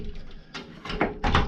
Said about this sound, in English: Then it comes with this tri-slide glass door.